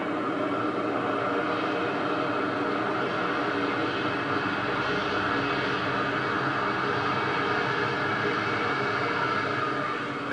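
A Qantas Airbus A380 jet landing at LAX produces a steady, broad roar that holds at an even loudness throughout, heard from a distance with no talking.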